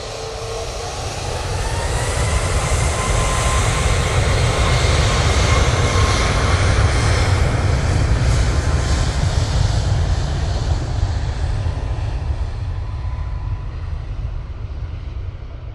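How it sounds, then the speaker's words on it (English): An Emirates airliner powers down the runway at Manchester Airport, its engine roar rising quickly to a loud, sustained rumble and rush that holds for many seconds before easing slightly as it passes. "Emirates is racing over towards us."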